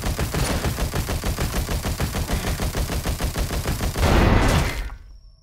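Automatic gunfire in the game Dysmantle, a fast steady stream of evenly spaced shots for about four seconds, ending in a louder burst that fades to silence.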